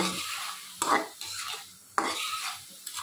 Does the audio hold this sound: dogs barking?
no